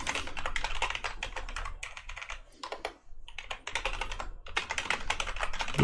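Rapid typing on a computer keyboard, close and crisp, with dense bursts of key clicks broken by brief pauses and no voice.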